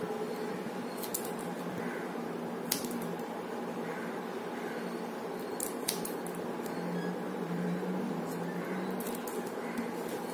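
Scissors snipping the plastic wires of a handwoven multicolour wire basket, sharp crisp clicks at irregular intervals over a steady background hiss, close and alone with no talking.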